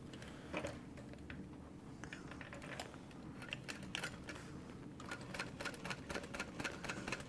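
A sewing machine set to a long stitch length runs a seam along the bottom accent piece of a structured fleece-lined tote bag, giving a steady, fairly quiet rapid clatter of stitching with a few brief pauses.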